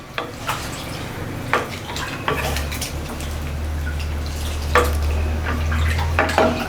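A spoon stirs salt into cauliflower masala in a pan, making intermittent scraping and clinking strokes against the metal over a steady low hum, with no talking.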